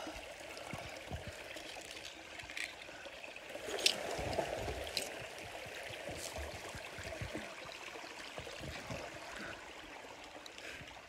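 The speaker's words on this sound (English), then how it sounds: "I got this pool right here. This waterfall. Waterfall water." Steady waterfall pouring into a spring-fed pool, a continuous broad rush of falling water with a brief louder splash near the middle, close and unbroken throughout.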